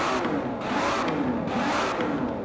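An Aston Martin V8 Vantage engine in Forza Horizon 4 revs loudly and steadily close up, a continuous roaring drone with slight rises and falls.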